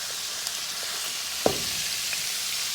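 Mushrooms frying in bacon grease in a skillet on a stovetop, a constant hissing sizzle with one sharp pop and a few small crackles.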